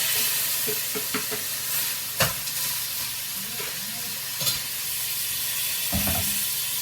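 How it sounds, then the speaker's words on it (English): Hamburger meat browns in a pan for beef goulash, giving a steady sizzle and hiss with a few scraping stirs and clanks of a utensil against the pan, close by and with no speech. "this is one of those dishes you go ahead and you brown your hamburger meat up"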